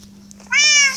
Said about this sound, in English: Oh wow, I got loads of cats.